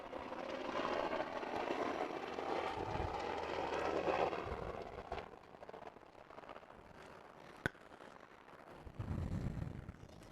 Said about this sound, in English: Helicopter number 3 flying over right now.